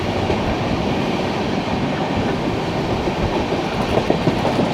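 The 12258 Garib Rath Express rolls from Palakkad toward Yesvantpur, heard from inside an AC Economy coach: a steady, loud broadband rumble of wheels and carriage with faint rail clatter, continuous and without voices.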